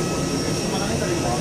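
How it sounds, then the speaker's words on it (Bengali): Steady broadband roar of a passenger jet engine while boarding an IndiGo flight, continuous and loud throughout, with voices talking faintly beneath the engine noise. "এই যে প্লেনের ইঞ্জিন"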